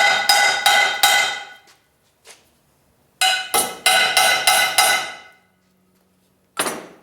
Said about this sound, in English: give it a couple of good smacks